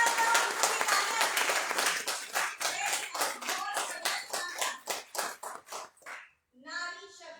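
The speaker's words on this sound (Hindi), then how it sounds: "जोरदार तालियां बजाए" An audience at a product training session claps loudly, starting as dense applause and thinning into scattered, separate claps before it dies away, with a short burst of voice at the very end.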